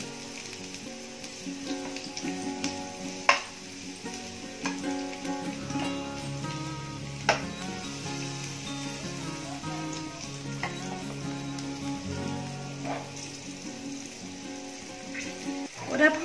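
Steady sizzling of green chilies and garlic frying in hot oil, with occasional pops and light stirring clicks, close by and moderately quiet.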